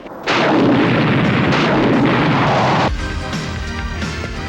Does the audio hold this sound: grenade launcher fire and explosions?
yes